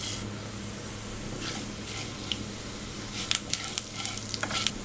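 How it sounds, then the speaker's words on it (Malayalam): Cumin seeds sizzle in hot oil, a steady close frying hiss that breaks into brisk crackles and pops in the last couple of seconds. "ഈ ചൂടായ എണ്ണയിലേക്ക് 1/4 ടീസ്പൂൺ ചെറിയ ജീരകം ചേർക്കാം."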